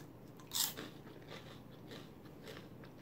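A Korean sweet garlic corn chip snapped between the teeth with one loud, sharp crunch, then soft, steady chewing crackles up close.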